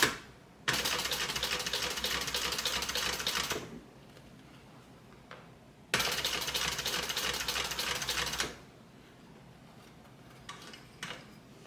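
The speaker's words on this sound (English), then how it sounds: "And then I'm just going to stitch all the way down." Sewing machine stitching down a bag seam in two loud, rapid, continuous runs of about three seconds each, separated by quiet pauses with faint handling sounds.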